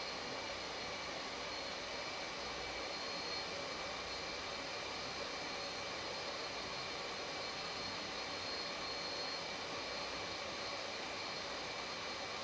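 Twin jet engines of an F/A-18 Hornet in a flight simulator game, a steady, even cockpit roar and whine that holds at a constant level throughout with no talking.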